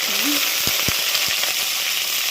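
Curry leaves hit hot tempering oil already crackling with dried red chilli, mustard seeds, cumin and lentils, giving a steady close sizzle with a few sharp pops; no speech.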